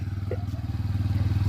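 A scooter running close by with a steady, pulsing engine drone throughout, ridden after a ten-year gap.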